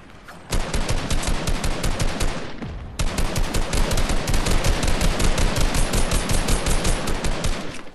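Rapid automatic gunfire from a weapon in a shooting video game, loud and sustained, with a brief pause near the start before the bursts resume and continue steadily.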